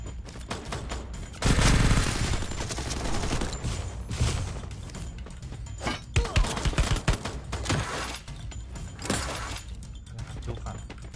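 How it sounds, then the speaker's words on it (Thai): Rapid bursts of game gunfire from a Free Fire match, including an MP-style weapon, crackle loud and close in dense volleys with brief lulls, while a voice talks intermittently underneath. "มันยิงกันข้างบนข้างล่าง"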